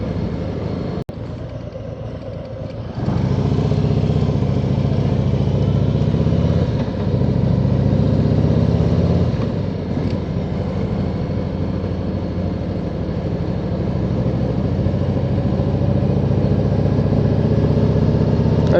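A motorcycle engine drones steadily nearby, a continuous mid-pitched hum that rises slightly after a few seconds and holds.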